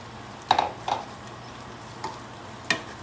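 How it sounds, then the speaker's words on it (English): A spoon scraping and stirring macaroni and cheese with ham in a pan, a few distinct clinks and scrapes spaced out over a soft background hiss, with no voices. "We're going to continue stirring."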